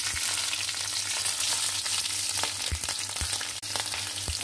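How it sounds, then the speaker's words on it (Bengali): Green chillies fry in hot oil in a wok with a loud, continuous crackling sizzle, dotted with sharp pops and a few low knocks. "এই যে তেলটা আমি দিয়ে দিলাম। এখন এটার মধ্যে দিয়ে দিব আমি কয়েকটা কাঁচামরিচ।"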